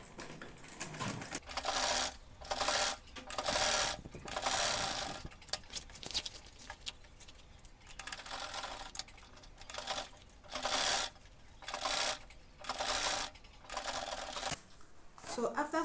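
A sewing machine stitches an Ankara fabric tote bag in quick, rhythmic runs of about a second each, separated by brief pauses, fairly close and moderately loud.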